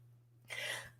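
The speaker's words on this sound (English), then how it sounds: "Sneezing." A single short sneeze bursts out after a moment of quiet indoors, soft and fairly close, over a low steady hum.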